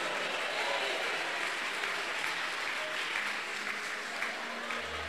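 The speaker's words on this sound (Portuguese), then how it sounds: "quero ouvir palmas misturado com glória a Deus" Church congregation claps steadily together, a continuous wash of applause filling the room at even loudness, with faint voices beneath.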